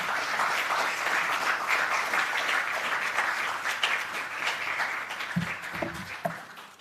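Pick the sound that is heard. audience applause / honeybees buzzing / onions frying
audience applause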